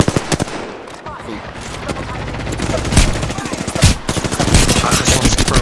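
Loud, rapid automatic gunfire from the video game Apex Legends rattles in dense bursts throughout, with a player talking over the shooting.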